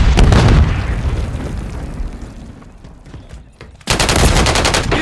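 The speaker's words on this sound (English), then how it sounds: "Stun grenade out." A stun grenade detonating in Call of Duty: a loud, dense blast and crackle that fades over a few seconds into a ringing lull, then another heavy burst of gunfire or explosion hits abruptly.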